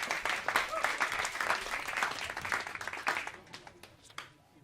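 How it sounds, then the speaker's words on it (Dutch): Audience applause at a Dutch storytelling event, a lively burst of clapping from a seated crowd that gradually thins and fades out over a few seconds. "Geef haar applaus."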